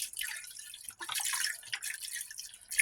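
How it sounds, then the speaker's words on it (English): Low sodium chicken broth pours into a cooking pot in a home kitchen, a soft continuous splash and trickle with faint dripping, close and quiet, no talking. "add in some low sodium chicken broth for flavor"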